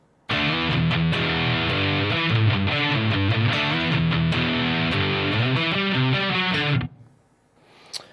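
Loud, thick distorted electric guitar plays a metal rhythm riff with shifting palm-muted chugs and held chords, running continuously for nearly seven seconds before cutting off into near silence.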